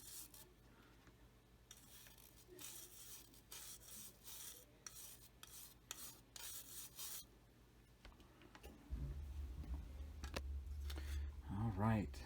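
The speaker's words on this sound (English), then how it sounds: "brush, and we're going to start cleaning off that salt" A brush scrubs salt off a painted model to reveal paint chipping, making soft, close scratchy strokes in short bursts, then duller rubbing toward the end.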